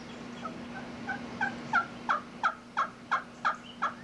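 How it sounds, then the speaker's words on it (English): A hen turkey gives a series of about eight evenly spaced yelps, building in loudness, fairly close and alone outdoors. "What that is, that's a basic hen yelp."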